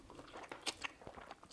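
Crisp bites and chewing on shrimp scampi with lemon butter garlic sauce, a few close crunchy bursts followed by soft mouth sounds, no talking.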